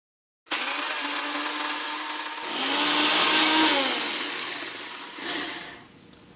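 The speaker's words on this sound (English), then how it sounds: "now that we've got it all blended up" A Ninja blender whirring through sriracha ingredients, peppers and seeds: loud and close, starting abruptly, rising to a higher roaring pitch midway, then surging once more before settling to a lower whine.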